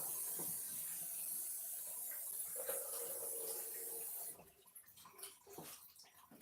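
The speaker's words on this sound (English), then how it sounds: "I'm going to add a whole one of these containers of water" Water pours steadily into a pot of split peas with a hissing, splashing rush that stops about two-thirds through, leaving faint drips and small clatters after.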